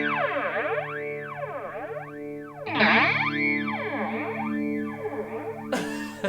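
Electric guitar played through a NUX Mod Core modulation pedal, with slow sweeping phaser or flanger cycles rising and falling across sustained chords, a brighter restrike midway, and a noisy burst at the end.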